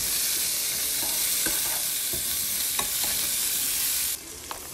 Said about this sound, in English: once that's melted down, I'm going to go ahead and add some of an onion that I chopped up and just get these cooked in with